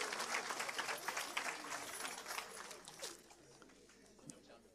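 Church congregation applauds the Lord with a brief wave of clapping mixed with murmuring voices, loud at first then fading away within a few seconds.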